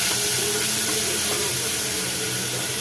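Garlic, green chillies, onion and tomato sauté in a hot pan for a chutney, giving a steady loud hiss and sizzle throughout with no talk.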